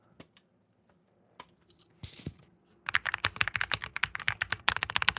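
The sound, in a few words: typing on a computer keyboard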